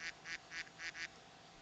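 A person mimics a duck, making five quick nasal quacks in a steady row over a call line with a faint hum underneath.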